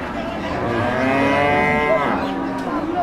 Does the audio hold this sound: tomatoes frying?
no